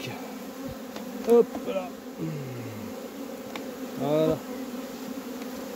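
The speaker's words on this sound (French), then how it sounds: "Et les abeilles vont monter." Honey bees buzz around hive boxes during a beekeeper's transfer of a nucleus colony, a steady, close droning hum that swells at moments, with a few short spoken words and handling noises over it.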